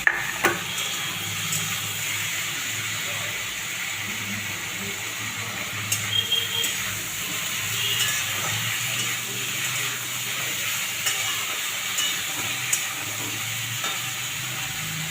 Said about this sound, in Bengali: প্রথমে আলুগুলোকে একটু হালকা করে ভেজে নেব